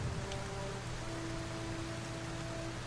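Steady rain in the Kerbal Space Program video game, a constant even hiss of falling drops that carries on without a break, with a faint low hum running beneath it.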